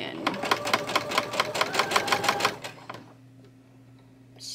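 A sewing machine stitches a quarter-inch seam on a quilt block, running in a fast, regular train of close mechanical clicks for about two and a half seconds before stopping, leaving a low steady hum.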